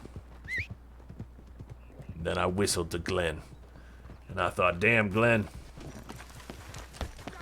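Horse hooves clip-clop steadily in the background while someone talks, with a short whistle near the start.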